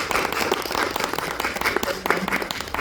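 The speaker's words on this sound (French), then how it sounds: "Sous un tonnerre d'applaudissements, Madame Davis." Audience applause at a talk show event, close and lively clapping from a crowd with distinct individual hand claps over a dense background, and a little speech mixed in.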